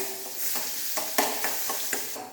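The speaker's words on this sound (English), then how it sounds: "into this I will be putting the ginger garlic, and I will saute it for some time" Ginger and garlic sautéing in vegetable oil, a dense close sizzle broken by several sharp spatula clicks and scrapes.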